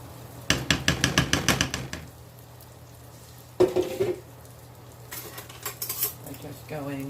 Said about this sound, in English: I'll whisk it in